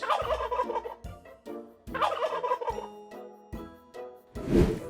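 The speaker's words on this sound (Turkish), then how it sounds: "Hindiler gulu gulu diye ses çıkarır." A turkey gobbles in rapid, rattling bursts, a couple of loud calls close by, ending with a rough noisy flutter.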